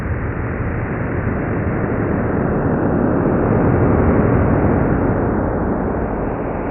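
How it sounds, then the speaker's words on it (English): Sonified black hole signal from space, heard as a loud, dense, continuous roar of rushing noise that swells slightly midway and holds without pause, with no voices. "But we have discovered more black hole sounds."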